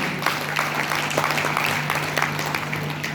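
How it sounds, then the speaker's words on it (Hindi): Audience applause at an RCM gathering for Vishwaranjan Sir, a dense, steady patter of many hands over a constant low hum throughout. "एक बार जोरदार तालियां विश्वरंजन सर के लिए"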